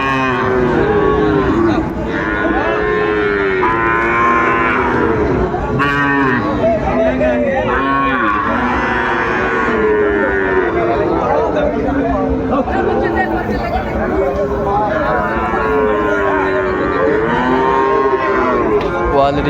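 Sahiwal bull calves and other cattle moo repeatedly at a busy livestock market in Dinajpur, loud and close, over constant crowd chatter and bargaining voices.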